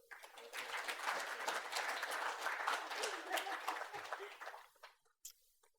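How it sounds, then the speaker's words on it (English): Audience clapping hands and stamping feet for a speaker, a dense sustained burst of applause that swells and then dies away, with a few stray claps and a chuckle near the end. "can I please get you to clap your hands and stamp your feet"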